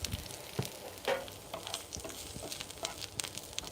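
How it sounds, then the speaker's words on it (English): Garlic sizzles in oil in a frying pan, a close, steady crackle with scattered pops and the scrape and tap of stirring. "add the garlic"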